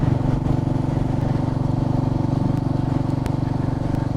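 Royal Enfield Meteor 350 motorcycle riding along a road, its engine a steady close rumble throughout, with another motorbike going past among the drone.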